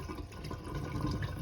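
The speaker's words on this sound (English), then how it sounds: "Then I just very carefully pour that through the strainer." Water carrying broccoli sprouts is poured through a kitchen strainer, a brief continuous splashing trickle at close range with no voices.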